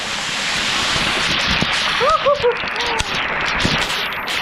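Steady broadband rush of a waterfall at a jungle falls, a continuous roar close by, with brief voices and an exclamation rising above it midway.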